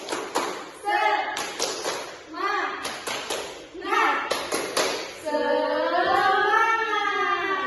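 An elementary school class does a rhythmic spirit clap, children chanting in unison in short bursts punctuated by sharp group claps, ending in a longer drawn-out chant.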